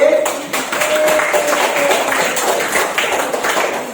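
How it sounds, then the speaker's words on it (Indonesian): Students in an elementary classroom clap for a group that has just presented, a brief burst of close, loud clapping with a faint tone and some voices underneath. "Tepuk tangan untuk kelompok B"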